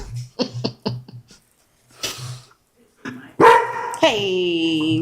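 A dog in a house gives several short barks in quick succession, then sharper, louder yips and a drawn-out whining bark, close by and partly mixed with voices.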